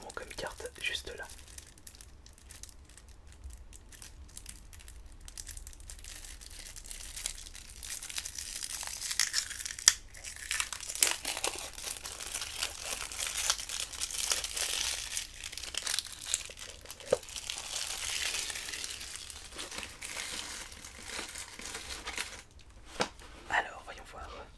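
Paper instruction leaflet from a Yu-Gi-Oh 5D's box set crumpled and handled close up, with prolonged crinkling and rustling beneath soft whispered talk.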